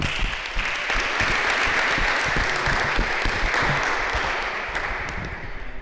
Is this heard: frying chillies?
no